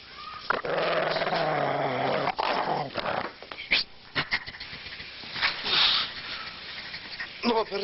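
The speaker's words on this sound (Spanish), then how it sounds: "Pero ten cuidado con el perro." A dog growls up close in a long, rumbling snarl lasting a few seconds, then breaks into short snorts, yips and huffs, with a person speaking in between.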